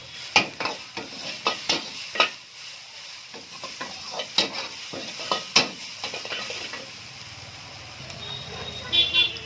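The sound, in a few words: stir-frying capsicum, carrot and cabbage over raised flame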